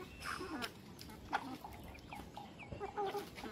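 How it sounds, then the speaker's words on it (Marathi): Backyard chickens clucking close by, a scatter of short soft clucks and calls over quiet outdoor background. "ते बघा बाहेरच्या कोंबड्या बघा सगळ्या इथे बघतात."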